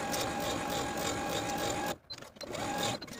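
A sewing machine runs a 3/8 inch seam along the side and top edges of a button-up top, a steady close whir that cuts off near the end and is followed by a few brief handling sounds.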